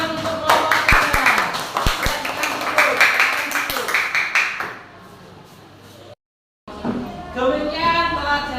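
Scattered hand clapping from a classroom group applauding a student team in an Islamic religious education lesson in Salatiga, Indonesia. Quick, uneven claps ring out for several seconds, then fade to a quiet murmur.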